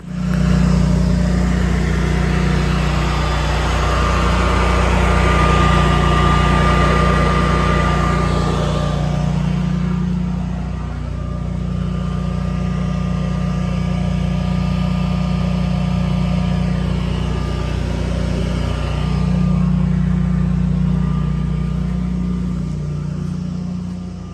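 A portable generator running during a power outage, a loud, steady engine drone with a low hum that holds for the whole stretch with only slight dips, close by and with no speech.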